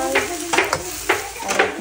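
Garlic and onion sizzling in a pan for homemade Maggi noodles, with a loud close hiss and quick rhythmic stirring scrapes, and no talking.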